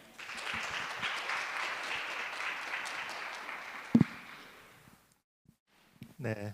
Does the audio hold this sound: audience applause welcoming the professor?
yes